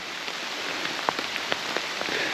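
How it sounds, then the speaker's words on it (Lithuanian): Rain falls steadily in a forest, a dense hiss with scattered close drops pattering on nearby surfaces, with no one speaking. "Pralauksim gal kokias 5 ar 10 minučių ir turėtų lietus nustoti"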